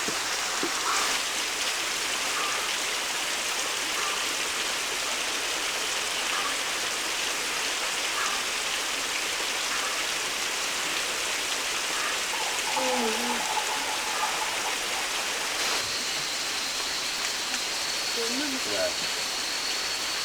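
Heavy rain pours down steadily at a rural farm site, a dense, continuous hiss that stays even throughout, with a few faint, brief sounds scattered over the downpour.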